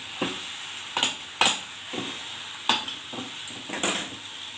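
Chukka kura (sorrel leaves) and bobbarlu (black-eyed pea) curry stirred in a pan with a spoon: five or six distinct scraping clinks in uneven rhythm over a soft steady sizzle, close and moderately loud, no voices.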